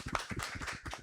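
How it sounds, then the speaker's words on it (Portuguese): Audience claps briefly in rhythmic bursts at a Brazilian book launch event, a short run of hand claps close to the mic with no talking over it. "Vamos seguindo. Palmas para"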